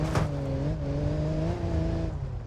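A commercial vehicle (Peugeot, Renault, Dacia class) grinds off-road in a racing game, its engine a steady loud drone with pitch that wavers and climbs slightly, plus a brief rough crunch near the start.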